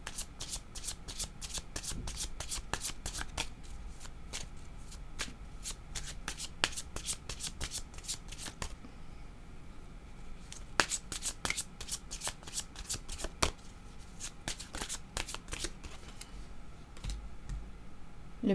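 Tarot cards being shuffled by hand: a long run of crisp riffling flicks, paused briefly about halfway, then starting again. The sound is close and steady, with no talk.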